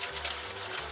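Water running steadily into a pot of pork cracklings set for rendering, a continuous close pouring splash with a low hum beneath and no talking.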